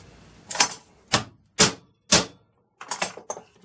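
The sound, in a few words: tapping hard with a tool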